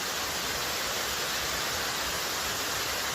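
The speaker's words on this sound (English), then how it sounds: "Look at that, what a gorgeous waterfall." Ramona Falls, a waterfall, roars with a steady, loud, broadband rushing hiss heard up close, with no voices.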